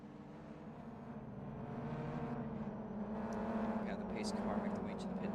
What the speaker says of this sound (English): These cars make their way around the final time around the back straight.